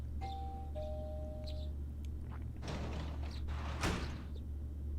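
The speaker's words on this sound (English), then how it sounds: "You hear the doorbell ringing." Doorbell in the video game Persona 4 Golden, with two short ringing tones near the start over a steady low hum, followed by some soft thuds and rustles.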